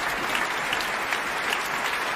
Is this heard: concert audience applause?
yes